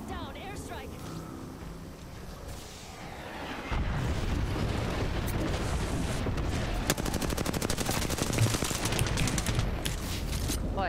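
An airstrike hits in a video game: a sudden heavy blast starts a long stretch of dense rumbling explosions mixed with rapid crackling gunfire, loud and continuous, while a player talks underneath.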